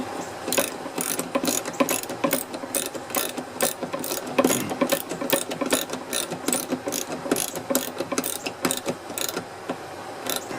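A hand ratchet tightens the fasteners on a Toyota lift gate piston with rapid, steady clicking pawl sounds that repeat evenly throughout. The ratcheting is close and moderately loud, with no talk.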